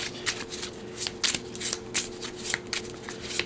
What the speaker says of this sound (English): Shuffle the rest of the cards